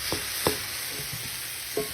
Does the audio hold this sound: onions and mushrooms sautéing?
yes